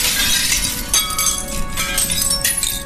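A glass window shattering, with shards raining down: a continuous, bright cascade of tinkling and crackling glass that stays loud and close throughout, with no voices.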